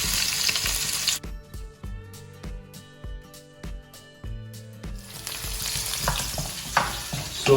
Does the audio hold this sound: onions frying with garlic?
yes